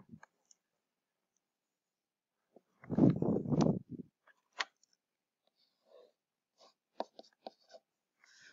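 A pen writes numbers by hand on a quiet surface: a cluster of scratchy strokes, then scattered light taps and short scribbles, close and faint, with no one speaking.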